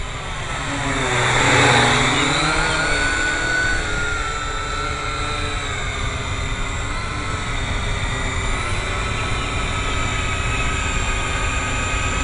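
A Syma X8C quadcopter drone flies past with a loud buzzing rotor whine that swells and shifts pitch as it approaches, then holds steady, no talk.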